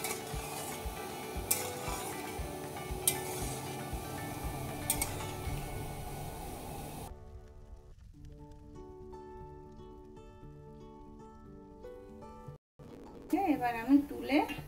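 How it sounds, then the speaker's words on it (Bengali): Semolina gulab jamun balls fry in hot oil, a soft steady sizzle with occasional stirring clinks through the first half, while a voice talks over it and music follows. "ভেজে নিতে হবে, ভালো করে না ভাজলে ভেতরে কাঁচা থাকবে আর শক্ত হবে"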